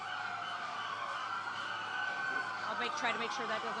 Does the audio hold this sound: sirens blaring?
yes